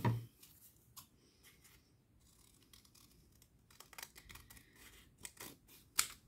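Scissors cut through two stacked layers of paper together while a snowman figure is made for Christmas, giving quiet, irregular snips and crisp rustles, close and faint, with pauses between cuts.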